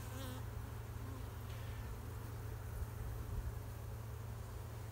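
Honeybees buzz at an open beehive with Varroa mites present, a faint, steady swarm hum throughout with no speech.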